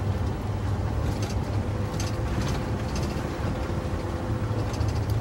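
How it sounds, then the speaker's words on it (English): Heavy vehicle noise on a Texas road east of Austin, a steady broadband roar with low rumble throughout, consistent with a big truck approaching and passing close by a chase vehicle on a rough road. "There's a big truck coming."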